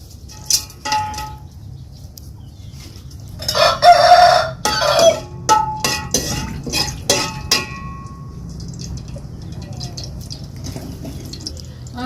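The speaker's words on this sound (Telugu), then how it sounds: "కోళ్ళు కూడా పోతున్నాయి పగలపూట" Chickens cluck and a rooster crows in short bursts over a steady low background hum, with a few sharp clattering knocks mixed in.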